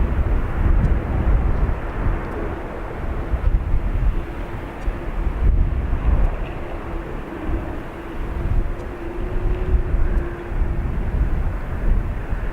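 A Ryanair Boeing 737 MAX 8 jet taking off at Dublin Airport, a loud continuous low engine roar with wind buffeting throughout, steady and sustained at close range.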